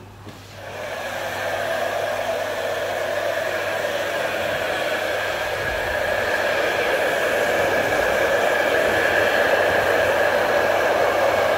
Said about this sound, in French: il est préférable de le sécher à l'air froid, c'est pas la peine de le sécher à l'air chaud